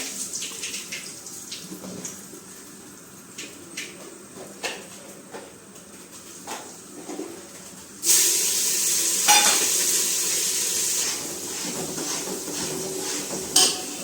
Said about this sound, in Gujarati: હવે શાકનો વઘાર પણ થઈ રહ્યો છે